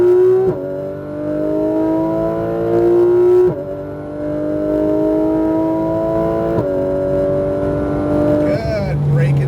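A car engine roars under load, pitch climbing repeatedly through gear changes, loud and close with a voice speaking over it.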